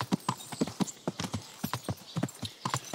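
Horse hooves clip-clop in the medieval video game Kingdom Come, an even, brisk trotting rhythm of crisp hoof strikes heard up close and alone.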